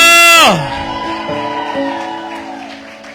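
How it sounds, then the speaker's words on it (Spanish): A church congregation shouts for joy during a family worship service. A loud, sustained group yell swells and falls away, leaving a mass of voices beneath. "Grito de júbilo."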